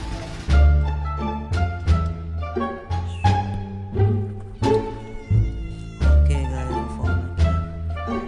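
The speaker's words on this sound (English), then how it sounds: "This is a cat." A cat meows repeatedly in a backyard, each call rising and falling, with a short pause between them, close and fairly clear with no talking.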